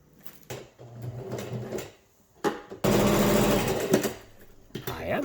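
Sewing machine stitching Coolaroo shade sail fabric for a pergola canopy, run by a first-time user: short motor bursts first, then a loud, steady whirring run of stitching that stops and restarts briefly near the end.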